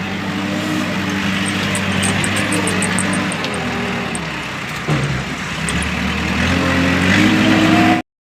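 A new tractor engine runs at a steady, close, loud hum that rises slightly toward the end, with no other sound breaking through.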